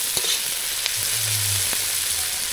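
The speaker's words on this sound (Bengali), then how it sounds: "দেখো একটু ভালো ভাজা ভাজা ভাজা ভাজা হয়ে গেছে" Snakehead fish frying in hot oil in a pan, a steady close sizzle running throughout with a few soft stirring clinks and a low hum underneath.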